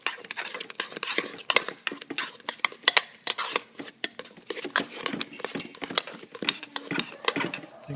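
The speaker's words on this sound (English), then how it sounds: "and stir like crazy" A soap mixture stirred briskly in a pot while rebatching soap, with oils poured in, giving a steady run of quick scraping clinks and taps of utensil against pot, close and fairly loud, with no talking.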